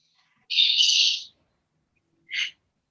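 A bird calls twice, a sustained shrill whistling note lasting under a second, then after a pause a short sharp chirp, loud and clear against silence.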